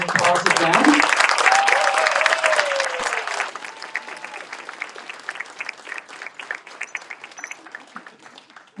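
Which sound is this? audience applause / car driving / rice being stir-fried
audience applause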